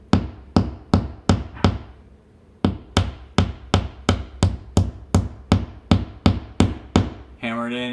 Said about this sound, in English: Hammer it in until it reaches the threads.